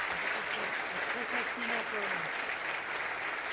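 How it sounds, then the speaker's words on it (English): Audience applause welcoming a volunteer onto the stage at a robotics talk, a sustained wash of clapping from a crowd with a voice speaking over it. "Round of applause for Robin"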